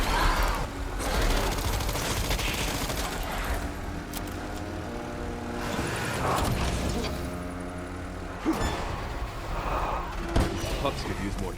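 Gunfire rings out in the video game Resident Evil 9, with sharp shots breaking through a loud, continuous wash of game noise as a voice talks over the action.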